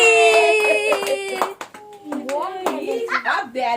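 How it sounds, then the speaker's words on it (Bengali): Hands clapping at a child's birthday party at home, quick bursts of claps mixed with excited kids' and adults' voices talking and calling out close by. "হাততালি হাততালি।"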